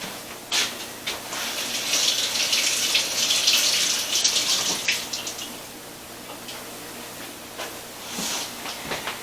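Tap water runs and splashes while freshly harvested onions are washed in a sink, a close steady gush broken by uneven splashes and surges as the bulbs are moved under the stream.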